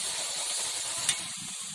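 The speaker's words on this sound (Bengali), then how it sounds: "জল ফুটে উঠেছে, এরপর ভেজে রাখা মানের বড়িগুলো দিয়ে দিচ্ছি" Water boils in a pan, a steady close hiss and bubbling roar that fills the moment, with one brief brighter splash or sizzle partway through.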